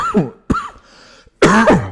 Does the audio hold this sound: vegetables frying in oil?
no